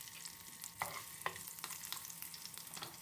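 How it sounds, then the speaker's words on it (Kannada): Turmeric powder goes into a hot-oil tempering of mustard seeds, cumin, green chillies and curry leaves for tomato rasam, making a faint steady sizzle with several crisp spoon clinks against the pan, no one speaking. "ನೆಕ್ಸ್ಟು ಒಗ್ಗರಣೆಗೆ ಸ್ವಲ್ಪ ಅರಿಶಿನ ಪೌಡ್ರನ್ನ ಹಾಕ್ಕೊತಾ ಇದ್ದೀನಿ"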